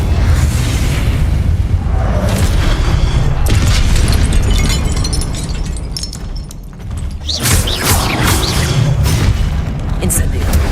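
Incendio fire spell cast over and over in the game Hogwarts Legacy, dense booming bursts of flame and blasts in a loud, continuous run with a brief dip midway.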